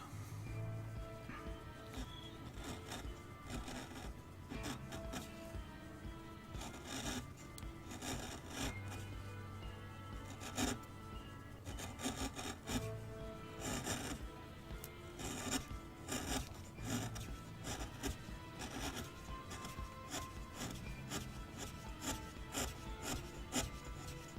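A wood gouge carves a wooden owl, repeated close rasping, scraping strokes in an uneven rhythm over about twenty seconds, fairly quiet and with no talking.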